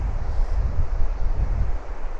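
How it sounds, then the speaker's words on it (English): Steady wind gusting across an open beach on the west side of South Uist in Scotland, a loud low rumbling buffet against the microphone with faint surf behind, continuous with no talk. "it's a bit windier here as well"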